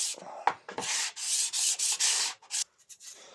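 Makita DUH754SZ cordless hedge trimmer blades being dressed by hand with a file, short rasping strokes in a quick uneven rhythm, close and fairly quiet.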